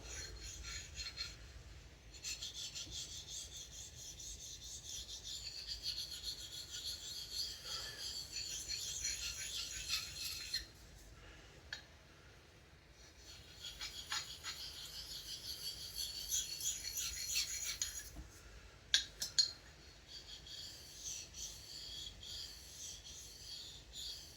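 A large straight razor scrapes back and forth across a fine sharpening stone in long, raspy strokes, two extended passes separated by a short pause and ending with a couple of clicks, close and fairly quiet.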